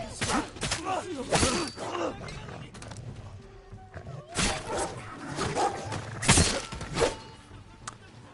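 Dogs bark in a Ghost of Tsushima game scene, several sharp barks spread across the clip at moderate distance, mixed with game effects and someone talking at times.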